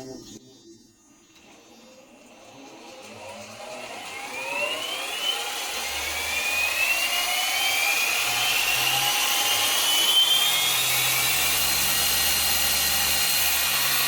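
An RC helicopter's tail rotor spinning up during a bench test, a high electric whine that climbs steadily in pitch, then holds as a loud, continuous buzz with a low rumble underneath, no talking.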